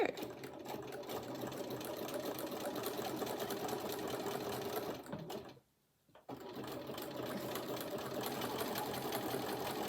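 A sewing machine runs a steady zigzag stitch along the edge of a piece of cross stitch fabric, whirring continuously and fairly close, with a brief pause near the middle before it starts up again.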